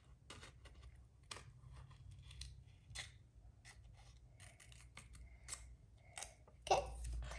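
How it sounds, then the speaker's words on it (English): Scissors cutting around paper shapes for a handmade pop spring card, a quiet series of irregular close snips and rustles with no talking. "Now you need to cut out, these outsides. Just cut around"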